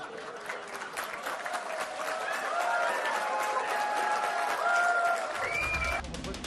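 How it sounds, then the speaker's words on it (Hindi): An audience at a political speech in the US breaks into sustained applause. The dense clapping fills the space and swells, with a faint voice over it before it cuts off abruptly. "वहां पर मौजूद लोगों ने ताली बजाकर इसका स्वागत किया"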